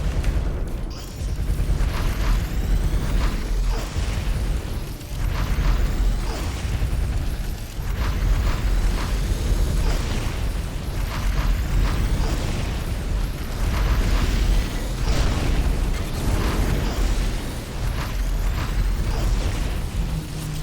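Rapid, loud explosions from weapons blasting enemy units and tanks in X-Morph Defense, set in Australia, booming repeatedly and densely throughout with no pause, layered over continuous mechanical rumble.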